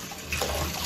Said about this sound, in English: And I'm gonna rinse this pot out.